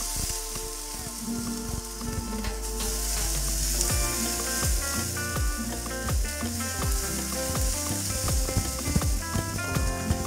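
Chicken sizzles on a rack over open flame in a kamado grill, a steady close frying hiss with scattered crackles and pops running the whole time, no voices.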